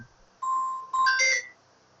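A mobile phone beeps during a coding lesson: two clear electronic tones, a steady single pitch followed by a brighter rising chime with layered notes, close and fairly loud with no talking over them.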